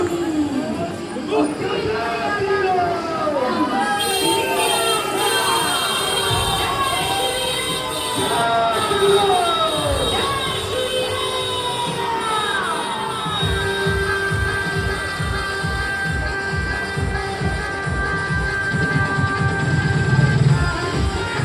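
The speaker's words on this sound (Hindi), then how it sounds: "और जुलूस निकल रहा है।" A crowd in a religious procession for Lord Ram passes along a street, a dense continuous roar of cheering, shouting children and babble close by, with voices talking through it and a steady rhythmic beat rising toward the end.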